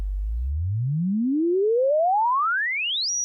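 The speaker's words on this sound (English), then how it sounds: "It's the natural wave that comes out of the filter in self-oscillation." A self-oscillating Leapfrog Filter synth module sings a clean sine tone that sweeps smoothly upward from a deep rumble to a high whistle, then holds the top note, loud and steady with no other sound.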